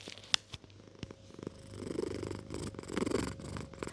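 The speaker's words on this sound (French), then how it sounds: "Toujours avec Zena qui ronronne très fort." Zena the cat purrs loudly and close, a continuous rhythmic rumble with a few sharp clicks and rustles near the start.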